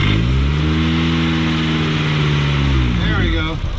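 A Volkswagen Jetta GLI engine, close and loud, idles roughly then revs steadily for several seconds before dropping off, with a faint whistle near the end, as if from a vacuum leak.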